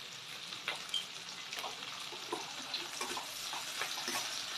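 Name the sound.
onion sautéing in a pan for chilli chicken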